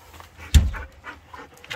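Dog panting outdoors on a cool morning after a monsoon, quick soft breathy puffs close to the microphone, with one louder huff partway through.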